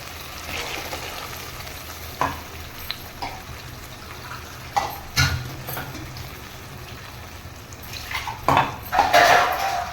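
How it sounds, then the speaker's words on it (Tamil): Dishes, pots and cutlery clatter and clink in a kitchen while mixer grinder jars are washed, with scattered close knocks and a busier rattling burst near the end over steady running-water hiss. "இப்போ இந்த மிக்சி ஜாரெல்லாம் வாஷ் பண்ணி நம்ம இதுலேயே ஊற்றிக்கலாம்"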